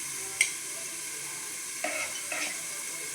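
Potatoes being stirred and fried with meat in a pan give a soft, steady sizzle, broken by three brief scraping stir strokes near the start and end.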